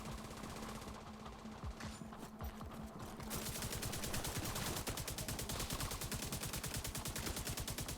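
Enemy gunfire in The Division 2 video game: after a few seconds of lighter noise, rapid sustained automatic fire erupts, a dense, continuous rattle of shots close and loud through the rest.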